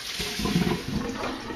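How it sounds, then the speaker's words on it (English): Longboard wheels swished and rinsed in a container of soapy water, a brief close sloshing, splashing wash with no talking. "Take your wheels and wash them just in some soapy water"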